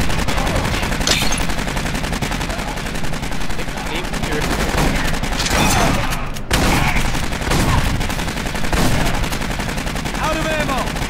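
Turret gunfire in the sci-fi shooter game Aliens: Colonial Marines, a dense, sustained automatic barrage that is loud and continuous, broken only by a brief gap partway through.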